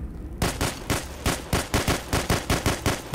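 Rapid, evenly spaced gunshots crack loudly and up close from a shotgun in the video game The Hidden, about a dozen blasts in a steady rhythm with no voices.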